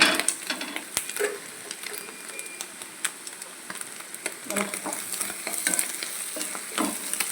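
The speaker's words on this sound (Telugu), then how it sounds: "ఇప్పుడు ఈ గుడ్డు కైమా బాగా ఫ్రై అయ్యే వరకు కాసేపు మూత వేసుకుందాం." Egg keema fries in a pan that is then covered with a lid, giving a low steady sizzle broken by frequent clinks and scrapes of a spoon and lid against the pan.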